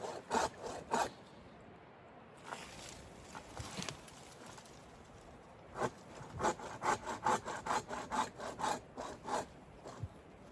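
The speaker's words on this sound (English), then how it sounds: "I gotta go cut some more trees" A saw cuts trees for a log cabin build in the woods. Rhythmic back-and-forth rasping strokes come in short bursts with pauses between them, fairly faint and with no talking.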